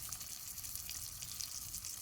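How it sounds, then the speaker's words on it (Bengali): Fish sizzles as it fries in a pan on a mini stove, a faint, steady hiss with fine crackling that continues evenly throughout, with no talk. "আমার মাছ ভাজা প্রায় হয়ে গেছে, শব্দ শুনে বুঝতে পারছো।"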